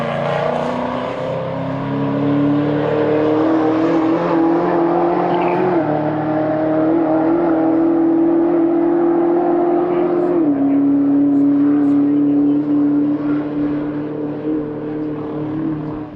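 Race cars accelerate on a drying track at a morning race event, engines droning loud and close with stepped gear changes, over a dim background.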